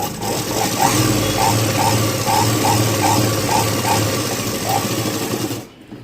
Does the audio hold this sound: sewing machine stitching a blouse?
yes